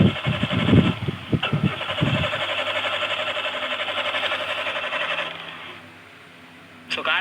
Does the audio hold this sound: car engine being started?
yes